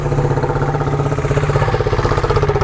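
The engine of a New Holland 3600-2 TX 50HP tractor idles close by, a low rhythmic chugging with a faint clatter, running evenly throughout with no talking.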